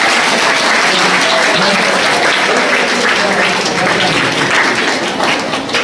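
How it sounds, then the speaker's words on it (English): Applause from a school audience of students in Hyderabad, a dense, steady patter of many hands clapping throughout, loud and close, with faint voices underneath. "Give him a clap."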